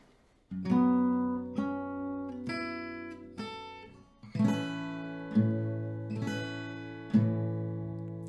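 An acoustic guitar is strummed slowly, alternating low bass-string hits with brighter chords on the higher strings, each stroke ringing out in a steady pattern.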